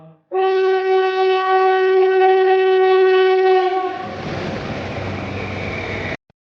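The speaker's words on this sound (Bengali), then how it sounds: "কিছুক্ষণ পর ট্রেন এলো" A train arrives with a loud, steady multi-tone horn blast that gives way to the rumbling roar of the train running past, close and alone, ending abruptly.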